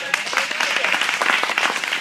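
Polite audience applause from a modest crowd, a steady patter of many hands clapping nearby in a short, even burst.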